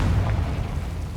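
A Confringo spell blast in Hogwarts Legacy, a brief loud low boom with rumbling body that stays dense for about a second, no voices.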